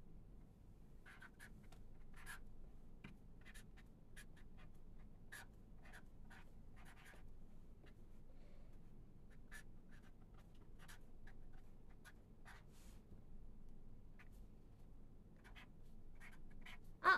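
Quiet scratching of a pen writing by hand on paper, Japanese hiragana, in short irregular strokes over a steady low room hum; faint and close, with no talking.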